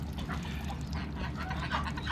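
Farm ducks by a frozen pond on a very cold day quack in a steady, overlapping chatter against constant background noise, fairly close and continuous throughout.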